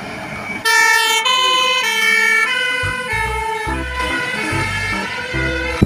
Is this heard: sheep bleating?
no